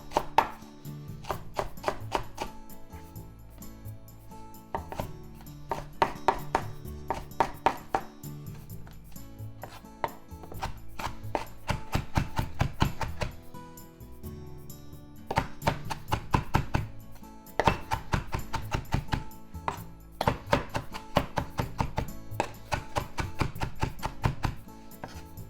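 Knife finely mincing coriander stalks and leaves on a board for shrimp gyoza filling, a fast, steady run of close, crisp chopping taps in long rhythmic bursts with a few short breaks.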